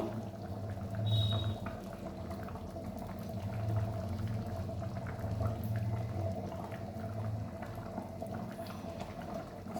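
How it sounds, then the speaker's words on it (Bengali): A pot of egg dalcha simmers with soft, continuous bubbling, steady and fairly quiet, with no voices over it. "ডিমটা দিয়ে আর একটু ফুটিয়ে নেব।"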